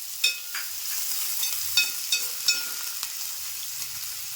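Chopped onion fries quietly in a pan for Konkani masale bhat, a soft sizzle punctuated by several sharp spoon taps and stirring clicks, close and fairly faint with no voices.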